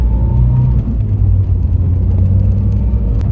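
A Ford Fiesta RS1800 engine hums low and steady through a sharp U-turn, a close rumbling drone with slight shifts in pitch and no talk.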